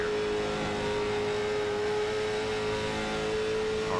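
Race car in a Dover racing video game held at full throttle, a steady high engine whine that never lets off, loud and close throughout with no talk.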